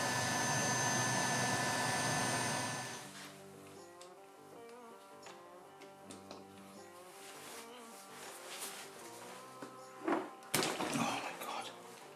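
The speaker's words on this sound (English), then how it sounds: "I've got a little heat gun, and on a low heat I'm just going to blow into the top hole" A small heat gun on low heat blows into the top hole of a BMW R1150 GS motorcycle final drive, a loud steady whoosh of air that cuts off after about three seconds, leaving quieter workshop clatter and a few knocks.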